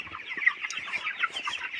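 Broiler chickens in a poultry shed cluck in a steady, overlapping murmur, many birds close by with frequent short clucks and no voices.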